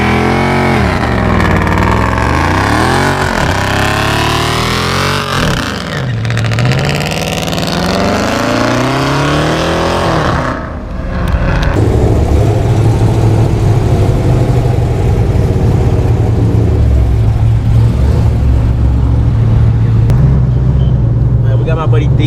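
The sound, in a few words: Hemi car engine running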